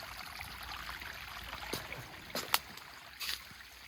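Water runs steadily over a rock slab at the Ban Na Ang waterfall, a continuous rushing wash with a few brief splashes and gurgles standing out near the end.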